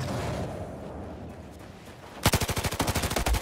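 An MG4 machine gun fires in Battlefield 4: a rapid, loud, close burst of evenly spaced shots starts after a stretch of rumbling background and runs to the end.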